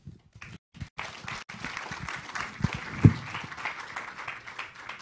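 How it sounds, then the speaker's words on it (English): A conference audience applauds the panelists at the close of a 2016 education summit session, a steady mid-level round of clapping lasting several seconds with one sharper peak partway through. "Let's give our panelists another round of applause for their work today."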